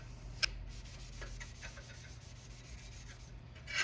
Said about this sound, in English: And then this is just a Scotch-Brite pad. We're going to go ahead and give them a nice rub down.